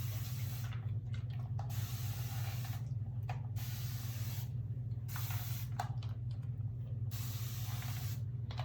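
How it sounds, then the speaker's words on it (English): A handheld spray bottle mists water onto 3C curly hair, giving repeated short hissing bursts in an uneven rhythm, close and fairly loud, with quiet gaps between sprays and a steady low hum underneath. "Spray it a little bit more."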